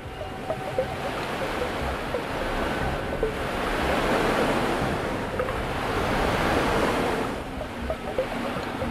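Simulated ocean water in the Floating Sandbox ship-destruction game, a continuous broadband wash of waves and surf with slow swells in loudness, no talking.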